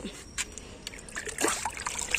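Leftover rice water is poured from a mug into plant pots on a rooftop terrace garden, a faint soft trickle and splashing of liquid over quiet background noise.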